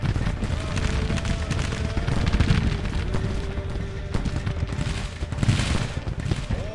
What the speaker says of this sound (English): Cannons are helping out good.